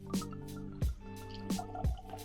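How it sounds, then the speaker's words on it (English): Single malt whisky glugs from a bottle into a glass in a few distinct gurgling pulses, close and fairly quiet, with no talking. "It has your favorite glug glug noise."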